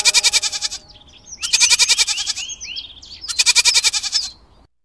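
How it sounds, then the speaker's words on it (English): A goat bleats three times in wavering, buzzy calls, loud and close, with faint bird chirps between them. "G for goat"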